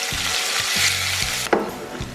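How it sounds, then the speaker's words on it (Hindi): Grated onion frying in hot oil for a spicy snake-fish masala, cooked outdoors in a village setting; a steady, bright sizzle with soft stirring scrapes and a sharper clatter near the end. "सबसे पहले हम प्याज को डाल देते हैं। प्याज को हमने कद्दूकस किया है"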